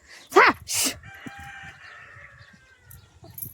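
A rooster among chickens wandering into a rural home crows close by after a couple of sharp squawks, the drawn-out call trailing off, with faint voices and household noise underneath.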